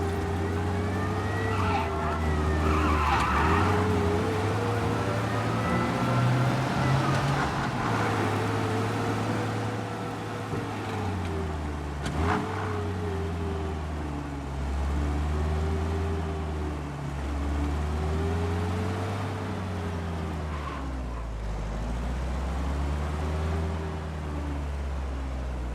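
A car is driven fast in the Mafia video game. A steady, loud engine drone rises and falls in pitch as it revs through gear changes, with brief tyre noises, and no talk.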